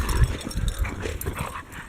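A happy dog makes short whimpering, whining sounds close by during a snowy early morning in Utah, the brief cries overlapping one another in a noisy outdoor scene.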